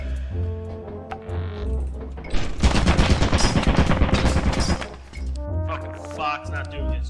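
Rapid automatic turret fire in a video game, a dense, loud rattling burst lasting a couple of seconds amid game noise and sharp impacts, with a voice speaking over the surrounding moments.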